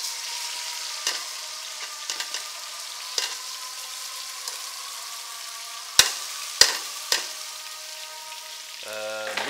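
Rice for pulao is stir-fried in a pan, giving a steady soft sizzle punctuated by scattered spatula scrapes and a few sharp knocks against the pan.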